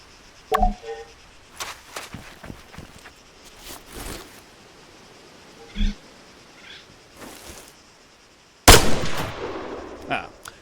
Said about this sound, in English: When you're ready, put some rounds down range.